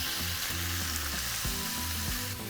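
Two pounds of raw shrimp sizzling in melted butter with sautéed onion, a dense, steady, close frying hiss with faint stirring, no talk.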